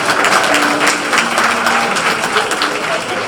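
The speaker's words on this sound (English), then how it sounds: "Let's give our daughters another hand clap, please." Audience at a homecoming alumni donor's banquet applauding with dense, continuous hand clapping throughout, fairly loud and close, with some voices mixed into the crowd noise.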